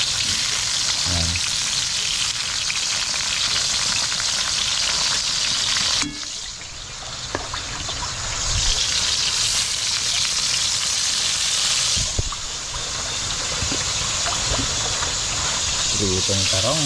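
Eggplant slices frying in a pan of oil give a steady, close sizzle throughout, with occasional stirring and clatter, and a brief dip in the middle before the crackle swells again.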